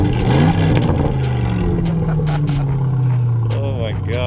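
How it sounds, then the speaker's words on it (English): A car engine revs up loudly, its pitch rising and holding in a sustained roar, with voices briefly heard beneath. "You want to throw me a couple revs"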